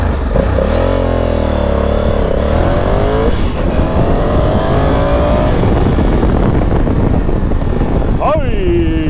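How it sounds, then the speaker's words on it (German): Honda CRF 1100 L Africa Twin motorcycle accelerating hard from a standstill in tour mode: a loud, close engine roar climbing through several gear changes, with wind rush throughout and a final sharp rev near the end. "Okay, ich starte jetzt mal die Beschleunigung von 0 auf 100."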